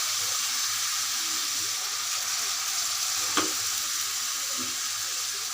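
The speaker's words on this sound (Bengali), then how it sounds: "এর মধ্যে আমি যে মশলাগুলো ব্লেন্ডার করেছি এটা দিয়ে দিচ্ছি" A blended spice paste sizzles in a pan of frying onions for a Bengali beef bhuna, a steady close hiss with a brief scrape or stir partway through and no voices.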